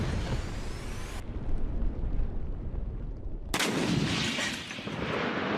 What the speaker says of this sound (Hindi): और वहीं यूक्रेन की टैंक ब्रिगेड का एक और बारूदी प्रहार नजर आया।